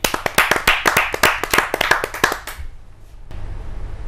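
Audience at a Hindi poetry gathering (kavi sammelan) claps briskly for about two and a half seconds, a close, dense burst of hand claps that stops abruptly and leaves quiet room tone.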